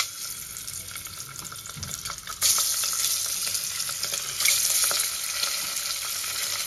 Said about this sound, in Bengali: এবার কুকারের মধ্যে দিয়েই আমি ভেজে নেব